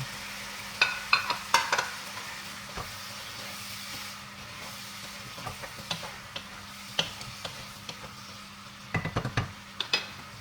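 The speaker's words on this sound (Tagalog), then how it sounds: "Then, we're gonna add the chicken." Chicken sizzles quietly in a pan as it is stirred, with a low steady frying hiss broken by scattered sharp clicks and scrapes of a utensil against the pan, coming in short clusters.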